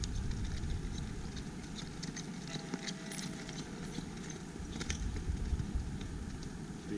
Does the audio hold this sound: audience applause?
no